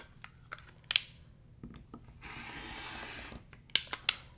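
Scissors or a rotary cutter trimming the top section off a pinwheel quilt block, with a few sharp snips and taps around a short soft rasping cut; no talking.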